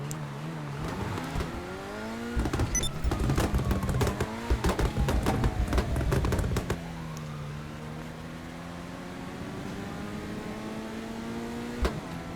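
A GTA 5 car with a swapped-in V10 engine revs and changes pitch through the gears, joined by a burst of sharp crackling noise in the middle, then settles into a steady drone.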